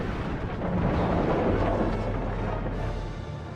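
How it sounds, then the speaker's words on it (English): Cannon fire in the video game Lego Batman 3: Beyond Gotham gives a loud, sustained booming rumble that fills the whole moment before easing off slightly at the end, with no talking. "And cannon fire."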